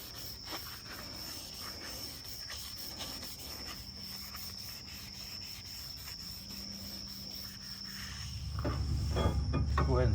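Shop towels wipe steadily across a brake rotor during a brake job on a 2015-2022 Ford Edge with electric calipers, a continuous close rubbing scrub that grows louder and rougher toward the end.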